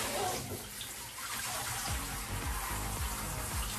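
Tap water runs steadily at home while dogs are being bathed, a continuous rushing splash close to the listener, with no talking.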